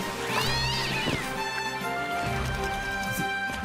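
A cat meows repeatedly in a Cat Quest game trailer, with several drawn-out, wavering cries over a light musical background.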